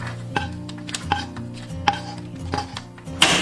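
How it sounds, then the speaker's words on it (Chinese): Popcorn being tossed with melted butter in a pot, heard as rhythmic metallic knocks and scrapes about every three quarters of a second, each with a short ringing tone, close and fairly loud with no talking. "倒入一半的爆米花，翻拌均匀"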